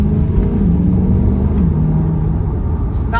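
A 2023 Corvette C8's 6.2-liter V8 hums in a low, steady rumble under light throttle, its pitch easing up and down slightly as the car gently accelerates, heard from inside the cabin.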